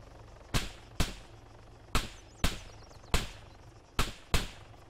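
Silenced gunshots from the City Life RPG video game fire as seven sharp, evenly spaced pops over a low ambient hum.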